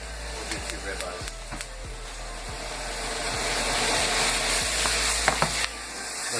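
Two ribeye steaks sizzle loudly in butter in a hot pan, a steady frying hiss broken by scrapes and taps of a utensil, with a voice speaking over it.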